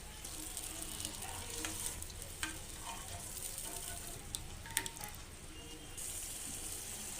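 Bottle gourd and cooked lentil curry sizzles steadily in a pan as water is stirred in, a continuous close frying hiss with occasional light clinks and scrapes from stirring.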